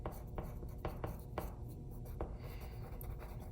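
A white colored pencil scratches across paper over a floral drawing in repeated short strokes, soft rhythmic scraping close up with no talk.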